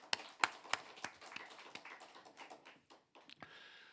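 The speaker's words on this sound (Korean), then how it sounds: "우리에게 최고의 복을 허락하신 하나님 앞에 감사와 영광의 박수를 올려드리겠습니다." A church congregation claps at a worship service: sparse, irregular individual claps, fairly quiet, gradually thinning out over a few seconds.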